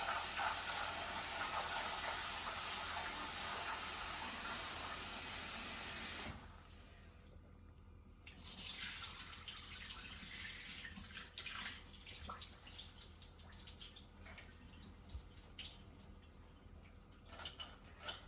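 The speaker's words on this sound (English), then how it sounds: "I'm just going to rinse them with some cold water once." Cold tap water runs steadily over soaked beans in a kitchen sink, a loud continuous splashing rush that cuts off partway, followed by quieter drips and trickling.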